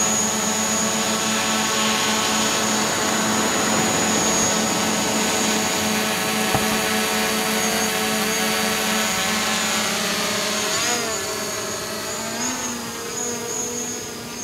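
A DJI Mavic Pro drone fitted with an Arris Raptor skid hovers close by, its propellers giving a continuous loud high-pitched whine that wavers in pitch as it adjusts position near the end.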